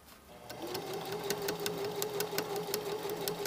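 A sewing machine runs steadily, stitching a waistband onto a skirt with a 5/8 seam allowance; rapid even needle clicks over a constant motor hum, close and alone without talk.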